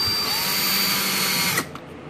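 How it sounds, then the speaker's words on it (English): A power drill runs at a steady high whine while starting screws for a baseball hat rack, held continuously close up and then cutting off abruptly near the end. "Am I drilling holes or starting screws? Starting screws."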